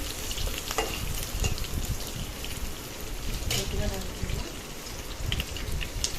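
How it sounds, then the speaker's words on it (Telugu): Curry leaves deep frying in oil for stuffed brinjal curry give a loud, dense crackle and spatter, with stirring clatter mixed in; a voice talks over the frying. "రెండు రెబ్బలు కరివేపాకు వేసుకోవాలి వేసుకొని బాగా గోల్డెన్ బ్రౌన్ కలర్లో వచ్చేంత వరకు ఇలా డీప్ ఫ్రై అయితే చేసుకోవాలండి"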